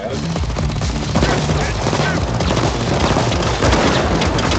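Heavy automatic gunfire fills the Payday 2 heist mission Firestarter, a loud, continuous rattle of rapid overlapping shots with voices shouting beneath it.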